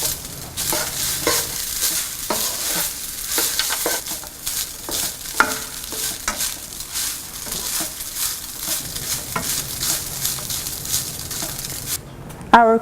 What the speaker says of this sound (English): Add some salt to taste and mix well.